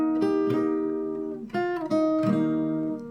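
Fingerstyle guitar plays the pre-chorus of a song, a few strummed and plucked chords ringing out in three clear groups, close and fairly soft, with no talking.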